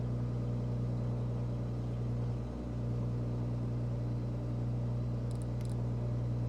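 A steady, droning aircraft engine hums at about 1200 RPM in Microsoft Flight Simulator, an unbroken low rumble with a constant tonal whine that stays loud and even throughout.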